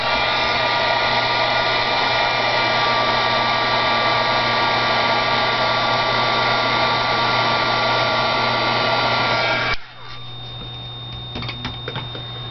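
A hair dryer blows loud and steady at close range while drying a paint base coat, then switches off, leaving near silence with a few faint clicks.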